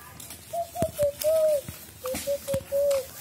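A small girl mimics a chicken's call with a string of short, tonal clucking notes in two groups separated by a brief pause, close to the listener.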